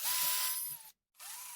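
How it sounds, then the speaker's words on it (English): Power drill boring holes through wooden pieces for a Halloween skeleton decoration, a steady high whine for most of a second, a brief silent gap, then the drill running again, close and loud with no talk. "On the hips, I drill a hole all the way through on both sides."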